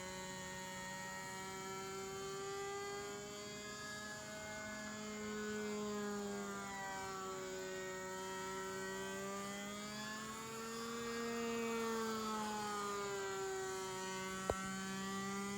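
A small SH GF6 model engine fitted with a 10.6 propeller runs steadily on its own, a continuous buzzing whine that swells slightly in pitch and loudness a couple of times, with a brief click near the end.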